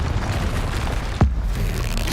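A single sharp Confringo fire-blast explosion from the Hogwarts Legacy video game bursts out once, loud and close, over a constant low rumble of game ambience.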